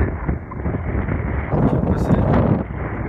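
Wind gusting over a Merry Fisher 1095 motorboat at anchor, buffeting the microphone in loud, uneven low rumbles that swell and ease, with no other clear sounds.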